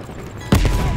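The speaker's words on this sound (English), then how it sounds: "you followed the road right toward the sound of gunfire" Gunfire erupts in the video game Call of Duty: Black Ops Cold War, a sudden loud burst of shots and booms cutting in halfway through after a quieter lead-in, close and punchy.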